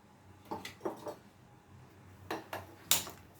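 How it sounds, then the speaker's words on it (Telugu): A metal kadai wok is set down on a home gas stove, giving a few light clanks and scrapes of metal against the grate, spaced out and fairly faint in a quiet kitchen. "తర్వాత కడాయి పెట్టేసుకోవాలి."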